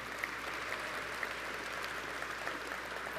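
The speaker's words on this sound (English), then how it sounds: "Please give them a round of applause" A summit audience applauds staff from the stage, a steady, moderately loud round of clapping with a few crisp individual claps, sustained for about three seconds.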